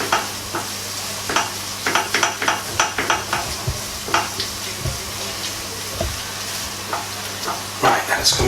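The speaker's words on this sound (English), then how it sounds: "Once that's all melted, we're going to add in our flour. We're going to try and create this roux." Flour is stirred into melted fat in a pan to make a roux for a Quorn white sauce curry, with a soft steady sizzle under repeated scraping strokes of the spoon at a close, moderate level.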